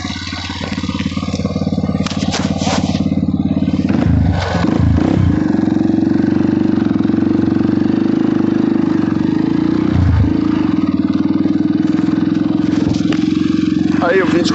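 A motorcycle engine runs close by with a steady low drone, briefly dipping and revving twice, while someone talks over it.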